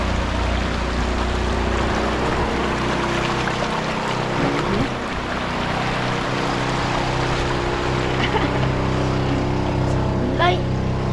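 A motorboat engine drones steadily nearby for the whole stretch out on open water, a constant low mechanical hum under light water noise, with a voice speaking over it.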